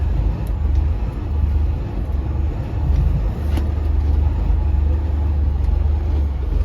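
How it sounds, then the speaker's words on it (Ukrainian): A 2024 truck rolls over rough, frozen off-road terrain, a loud steady low engine and road rumble with occasional faint knocks and rattles, no talk. "ось такими бездорожжями їду на своєму красавчику траку 24-го року"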